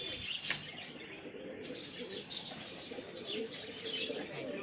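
Pigeons brought from Nagpur, low soft cooing with light rustles and wing flutter nearby, faint over a steady background hiss.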